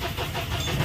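A Mahindra Bolero with a long-cranking starting problem catches and runs, its engine churning steadily with a low, rough mid-frequency rumble close by, no voices over it.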